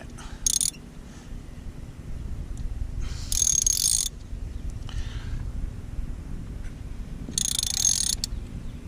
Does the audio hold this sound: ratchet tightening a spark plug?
yes